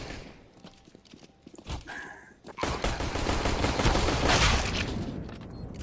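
Dense rapid gunfire from a CS:GO match fills most of the stretch, a continuous loud automatic burst after a few scattered shots and clatter.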